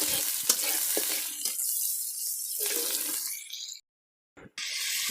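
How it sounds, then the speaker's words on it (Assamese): Onions fry in a pan over a firewood fire, a loud bright sizzle with scraping stirs that fades to near silence near the end before the hiss resumes briefly. "প্ৰথমতে পিঁয়াজখিনি এনেদৰে ভাজি ল'লোঁ।"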